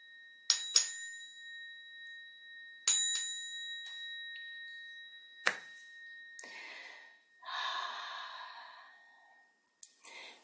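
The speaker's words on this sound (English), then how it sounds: "I'll ring the bell for us to go out." A meditation bell rung to close a session strikes three times with clear, ringing tones, each fading slowly, followed by soft breathing and a faint final tap in a quiet room.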